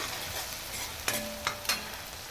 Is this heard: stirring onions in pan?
yes